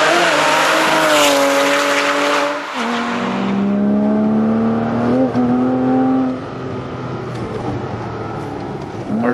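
Porsche Boxster/Cayman with an A.W.E. Tuning stainless exhaust, loud and near, revving hard through rising gear pulls with a shift break, a smooth sustained engine howl throughout.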